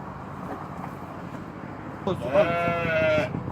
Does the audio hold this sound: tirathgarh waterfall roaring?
no